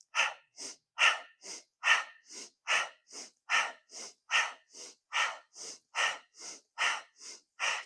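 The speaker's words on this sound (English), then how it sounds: "I'm going to add some breath work. I exhale as I push away from the body." Rhythmic breathing during a fast-paced advanced yoga class, with about sixteen sharp, even exhales in quick succession, close and alone with no talking.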